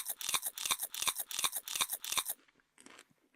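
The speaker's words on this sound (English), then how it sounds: "So other than chewing screws" Loud, close crunching of screws being chewed, about a dozen rapid rhythmic bites over two seconds, then quieter faint scraping afterwards.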